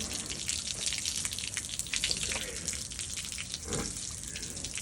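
Water splashes and trickles in a steady stream, poured continuously over a feverish buffalo calf's head, with faint background noise.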